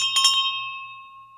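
A single bell is struck once and rings out with a clear, sustained tone that slowly fades, heard alone with no voices.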